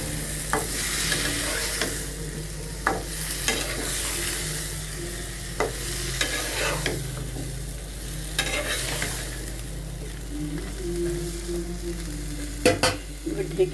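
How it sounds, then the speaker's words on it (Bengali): Cut potatoes and bottle gourd tossed into frying spiced oil, a steady sizzle with intermittent scraping stirs and clinks of a utensil against the pan, close and without talk. "এবার কেটে ধুয়ে রাখা আলু এবং লাউগুলো দিয়ে দেব।"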